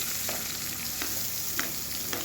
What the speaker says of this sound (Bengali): কেটে নেওয়ার পর আমি এবার কড়াতে পেঁয়াজ ভেজেছি।